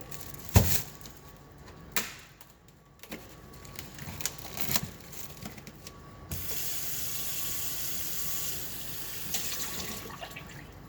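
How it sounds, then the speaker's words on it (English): Meat being rinsed under a running kitchen tap, with water splashing and knocking in the sink before a steady, close stream of flowing water takes over, no voices. "So I'm gonna rinse this off a little bit."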